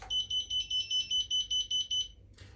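Mobility scooter warning beep from an engaged freewheel lever on a Next Gen auto-fold scooter: about ten evenly spaced, shrill electronic beeps in a steady rhythm, loud and close, with no talking.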